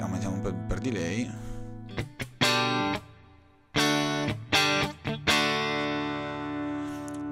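Electric guitar through a HelixIR amp with extra delay, bursts of distorted chords and notes cut off sharply with echoing repeats trailing after, loud and close with no speech.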